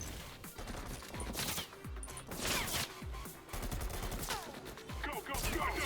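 Rapid gunfire bursts and repeated shots crack through a chaotic Bullet Train VR game battle, with overlapping impacts and action sounds at close range.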